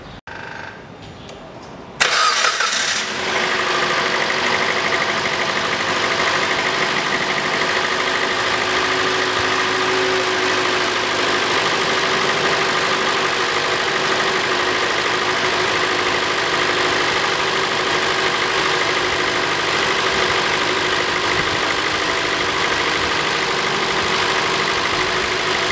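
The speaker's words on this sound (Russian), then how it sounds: "Запускаю двигатель." A Mitsubishi ASX 1.8 engine cranks and catches after a short quiet moment, then settles into a steady, loud idle that runs on evenly with no voices over it.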